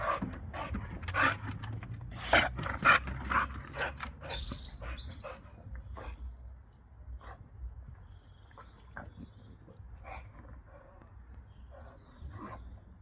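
A dog dashing about a garden, panting and scuffling close by with bursts of movement early on, then settling into quieter breathing as a person talks now and then.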